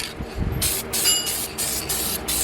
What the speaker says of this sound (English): we do another little spray of copper coat on these on the other side